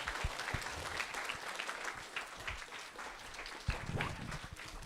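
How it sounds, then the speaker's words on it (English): Audience applause greets a guest speaker arriving at a school event, a steady wash of clapping at moderate distance with a few sharper claps standing out, lasting the whole stretch. "can we give her a really welcome applause as she comes up?"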